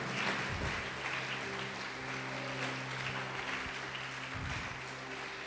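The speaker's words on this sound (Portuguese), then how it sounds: "Pode aplaudir, glorificar." Steady applause from a church congregation fills the whole stretch, dense and continuous, with a low sustained hum underneath.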